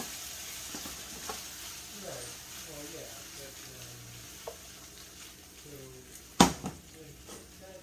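Shaking beef (bò lúc lắc) sizzling over high heat in a pan while being stirred, a soft continuous frying hiss with light scraping and one sharp clatter of utensil on pan, with a voice speaking quietly.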